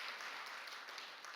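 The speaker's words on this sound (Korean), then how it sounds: "우리 성가대를 향해서 우리 큰 박수로 하나님께 영광 올려드립니다" A church congregation applauds the choir with dense, even clapping. The applause fills the room and carries no voices over it.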